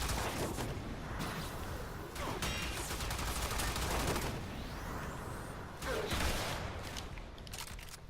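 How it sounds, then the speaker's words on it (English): Tigris Prime shotgun blasts fired in Warframe, loud booming shots bursting out amid dense, continuous game combat noise, with roughly three heavy reports standing out over the clutter. "about 3 shots of the Tigris Prime"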